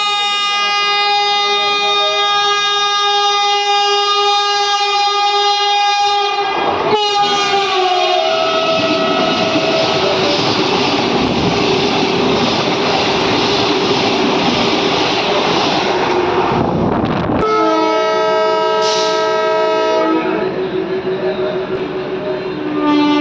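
Raichur-Guntakal DEMU passenger train pulling out of Adoni, its loud horn-like tones sounding steadily, then giving way to a broad rumbling roar of the moving train, with the tonal sound returning near the end; no talk.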